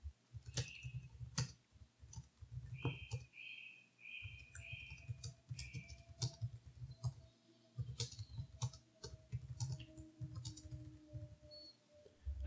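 Computer keyboard keys tapped while a comment is typed into a CAD document, quiet rapid clicks in short bursts separated by pauses, close by and without speech.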